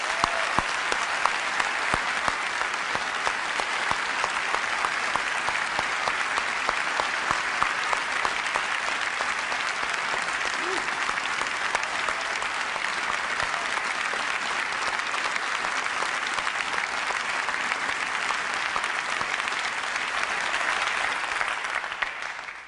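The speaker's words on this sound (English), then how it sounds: "I would just like to give them a round of applause." A large keynote audience applauds a product team in long, dense, continuous clapping that stays loud and steady throughout before tapering at the very end.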